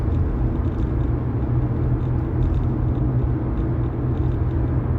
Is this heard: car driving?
yes